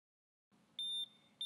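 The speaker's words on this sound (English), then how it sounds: "emit an audible alarm" A Protege ZM gas monitor gives high electronic alarm beeps during a calibration gas test. Two to three short, steady tones start after a brief hiss, quiet and close.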